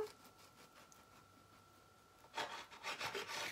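A knife cuts through a gluten-free, keto, low-GI brioche loaf: quiet at first, then a short burst of rough, rasping sawing strokes close by near the end.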